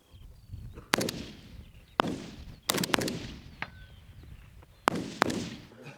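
Gunfire rings out during military recruit shooting training: sharp, loud rifle shots fired singly and in quick pairs at an irregular pace, each followed by a brief outdoor echo, with no talk.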